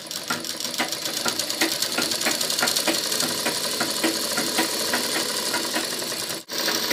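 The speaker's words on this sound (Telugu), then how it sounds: "సైడ్స్ కి కుట్టేసుకుందామండి ఇలా సైడ్స్ కి కుట్టు వేసేసుకొని" A sewing machine runs steadily while stitching the sides of a pot neck blouse, giving a continuous fast mechanical chatter that stops abruptly near the end.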